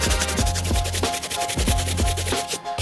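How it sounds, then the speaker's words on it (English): Soft-bristle brush dry scrubbing suede New Balance sneakers, a steady rhythmic rasping with repeated strokes about every half second, close and fairly loud, with no talking. "So let's dry brush as much of this stuff off as possible."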